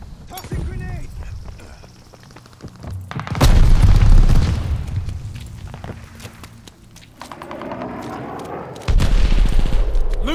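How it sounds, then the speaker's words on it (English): In Call of Duty: Vanguard, a grenade explodes with a loud boom, then scattered gunfire follows and a second heavy blast lands near the end, with voices calling out over the battle. "Tossing grenade!"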